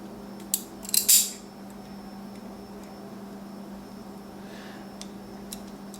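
Electrical wire being cut and stripped while building an extension cord from old appliance cord: two or three sharp, close metallic snips in quick succession, then only a steady low hum.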